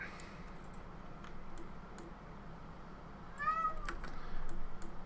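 A cat meows in the zoo-building video game Planet Zoo, a short, fairly faint call rising out of a steady background hum, followed by a few soft clicks, with no talk.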